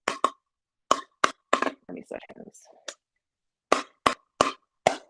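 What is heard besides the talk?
hard plastic wiffle pickleball hit with paddle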